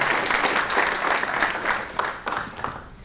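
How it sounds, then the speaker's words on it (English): A ceremony audience applauds at an annual all-abilities awards event, a dense, steady wash of many hands clapping at moderate distance that holds for about three seconds before easing off. "give a big round of applause to all of the nominators as well"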